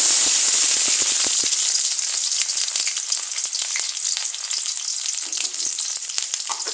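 Onion paste drops into hot oil in a pan and bursts into a loud, bright sizzle with a cluster of sharp crackles at first, then settles into a steady, slightly softer frying hiss.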